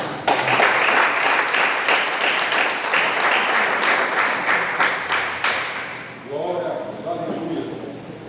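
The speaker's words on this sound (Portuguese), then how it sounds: "Dê um louvor de palmas para Deus." A church congregation claps together in loud, dense, sustained applause for about six seconds during a worship service, then it ends and a voice begins speaking.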